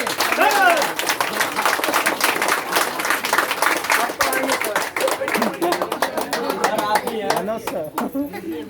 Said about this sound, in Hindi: इसलिए एक बार जोरदार ताली और खड़े होके बजाइए